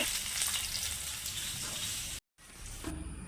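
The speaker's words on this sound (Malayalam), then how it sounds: "ഇത് ചിക്കൻ വറുത്തു" Chicken pieces frying in a pan of hot oil give a loud, steady, dense sizzle that runs without pause, cuts off briefly near the end, then resumes.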